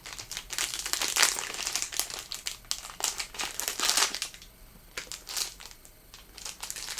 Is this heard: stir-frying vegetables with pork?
no